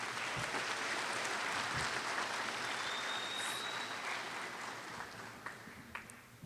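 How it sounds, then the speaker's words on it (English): Sustained applause from an audience at an honors recognition ceremony, steady and dense throughout with no talking over it, tapering slightly toward the end. "Another round of applause for those outstanding students."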